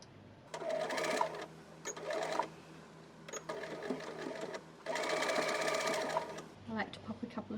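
A sewing machine stitches the edges of a handmade card holder and needle case in two longer runs and a few short bursts of close, rapid needle clatter, with a person talking between runs.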